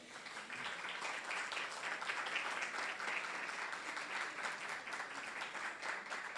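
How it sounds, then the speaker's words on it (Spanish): Steady, dense applause from an audience at a book presentation in Santiago del Estero, continuous clapping throughout with no talk over it. "Les damos un aplauso."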